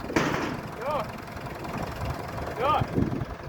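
A tractor engine idles with a low steady rumble under a voice, and a couple of brief whistling tones rise and fall.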